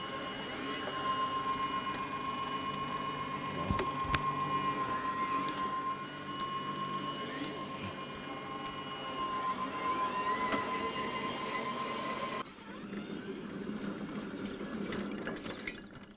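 Allett Stirling lawn mower motor running with a steady whirring hum and a thin high whine, close and continuous, dropping to a lower drone partway through.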